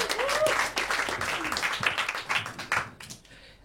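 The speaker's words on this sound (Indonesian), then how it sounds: "Ayo Bang Poni, masuk tepuk tangan Bang Poni." Audience applause at an Indonesian talk show greeting a guest onstage, a dense burst of clapping that fades after a few seconds, with voices and cheering mixed in.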